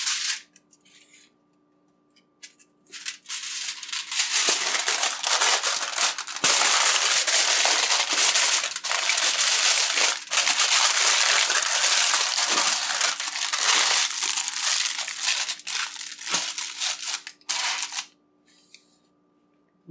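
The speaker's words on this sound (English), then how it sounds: "So we are wrapping the baigan in foil now." Aluminium foil crinkles and crushes loudly up close as a seasoned, garlic-stuffed eggplant is wrapped, a dense crackling burst lasting around fifteen seconds before it stops.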